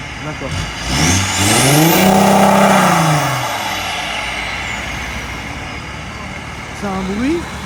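Audi A6 estate driving along, its engine making a whooshing, blowing noise; a loud swelling sweep of engine and road sound rises and falls, with a passing vehicle and a steady hum underneath.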